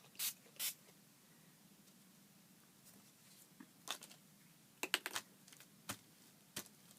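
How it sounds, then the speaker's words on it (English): Short spray bursts, loud and close, sound out from a spray bottle of ink used over a hot glue stencil, spaced irregularly with quiet gaps and a few light taps between them, no talking. "if I go the bigger sprays, it does a little bit of a sort of different thing"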